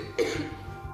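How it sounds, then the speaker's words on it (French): A woman who inhaled chlorine fumes lets out one sharp, close cough that trails off into a raspy tail over low background hum. "elle n'arrête pas de tousser"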